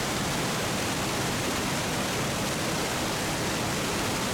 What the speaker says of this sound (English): The waterfall itself is about 30 feet tall.